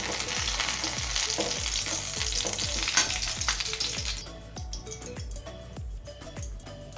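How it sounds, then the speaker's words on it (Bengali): Pointed gourd (potol) pieces fry in oil in a wok with a busy, close sizzle, while a spatula stirs in regular scraping strokes; the hiss softens partway through, leaving the rhythmic stirring more prominent. "এবারে এই তেলে আমি পটলগুলো ভেজে নেব। পটলগুলো লাল করে ভেজে নেব।"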